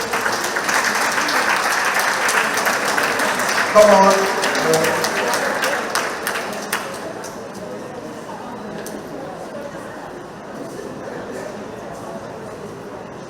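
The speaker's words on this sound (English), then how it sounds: "Give her a lovely round of applause." Community centre meeting audience giving a round of applause, dense clapping for several seconds that fades into quieter room noise with talk.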